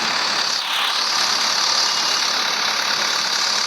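Engine drone from a car driven in the mobile game Indian Bikes Driving 3D, a steady hissy synthetic hum that holds constant throughout with no talking.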